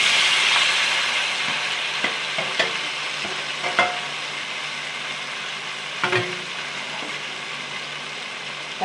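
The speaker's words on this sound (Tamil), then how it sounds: "தக்காளி ஆட் பண்ணிவிட்டு நல்லா கலரி விடணும்." Chopped tomatoes sautéing in oil for a tomato chutney, with a steady sizzling hiss close at hand. Several sharp scrapes and taps of a spoon against the pan land at irregular intervals, and the sizzle fades slightly over time.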